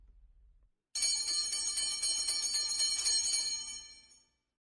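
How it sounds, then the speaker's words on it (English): An electric school bell rings loudly and continuously for about three seconds, a bright rapid metallic trill that starts abruptly and then cuts off. "the school bell is ringing"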